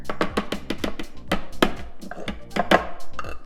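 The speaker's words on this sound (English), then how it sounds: "Now, I got my garlic cloves in here, just grinding them up a little bit more." Garlic cloves being ground up in a kitchen, a rapid series of close, sharp knocking thuds in an uneven rhythm, loud and without talk.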